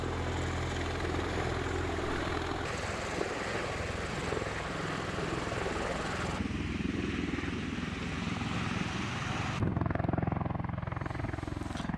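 An Osprey tiltrotor aircraft drones with a broad whirring rotor roar that shifts in tone as it moves, loud and continuous throughout.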